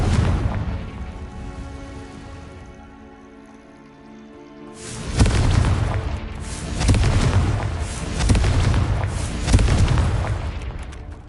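Blasting spells in the Hogwarts Legacy video game burst into loud, rumbling explosions, a sustained crackling roar that swells in several waves after a quieter stretch, with no voices.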